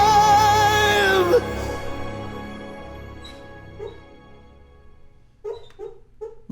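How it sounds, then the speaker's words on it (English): A dog whimpers in its sleep while dreaming, giving soft, faint yips and high whines in short bursts after a song with singing fades out. "My dog is dreaming."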